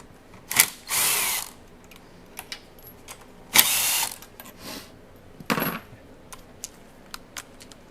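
A power tool works on T30 Torx bolts of a 2014 Chevy Volt: three short whirring bursts with separate clicks and ratcheting taps between them, close and fairly loud in a quiet garage.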